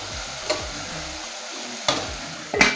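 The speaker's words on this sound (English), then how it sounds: "Let it fry for some minutes." Jollof rice sizzles steadily in a hot pan, broken by a few sharp scraping knocks as it is stirred.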